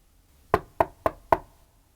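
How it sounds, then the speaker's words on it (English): Four quick, evenly spaced knocks on a door, sharp and close, with quiet all around them and no voices. "No, don't knock!"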